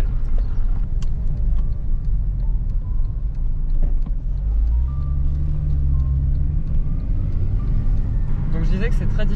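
Interior rumble of a Porsche with a PDK automatic gearbox driving, a steady low engine and road drone with a rise in pitch midway, under someone talking.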